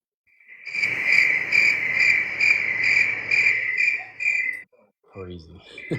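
Crickets chirp loudly and close, a shrill high pulsing trill of rapid bursts that runs for several seconds, then stops abruptly, followed by a brief voice.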